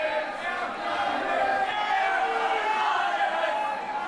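A crowd cheering at a German Wrestling Federation show, a loud, steady roar of many voices shouting and chanting throughout.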